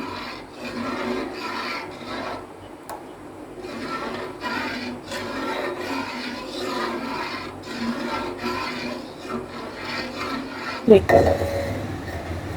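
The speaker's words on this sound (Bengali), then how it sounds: "একদম নাড়তে থাকতে হবে নাড়া বন্ধ করা যাবে না" Mango pudding being stirred steadily in a pot, a close rhythmic scraping and rubbing of a utensil against the pan bottom, ending with a louder clank.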